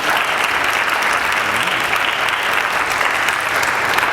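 Sustained applause from a seated audience at an event remembering Gordon Parks, dense steady clapping that fills the room without a break from start to finish.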